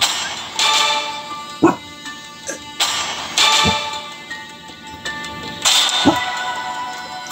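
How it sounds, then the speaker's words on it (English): A dog barks repeatedly indoors during mobile game play, several loud close barks and yips spread out over several seconds, with some whimpering and background noise between them. "I don't know why she's barking"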